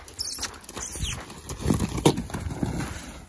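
A saddled horse cantering, its hooves thudding in an uneven rhythm of close, moderately loud clip-clops over a few seconds.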